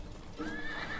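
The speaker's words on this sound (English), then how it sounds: "Horses, positive." A horse gives a short, close neigh that rises and wavers, set against a dense bed of background noise in an old-time radio drama.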